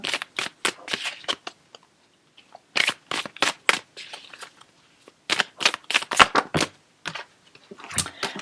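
Tarot advice cards being handled and shuffled up close, crisp riffling flicks in quick clusters separated by brief silent pauses.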